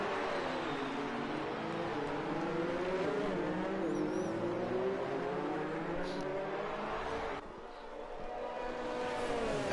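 Race cars roar steadily down a straight at the Japanese Grand Prix in a racing game, engines droning loud and continuous with rising and falling pitch, a brief dip near the end before the noise swells again.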